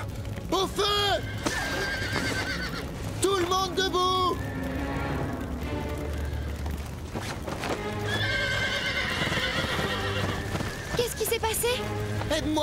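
Cartoon horses whinny loudly and repeatedly as a fire breaks out, their neighs mixed with clattering hooves and shouting voices in an animated stable scene.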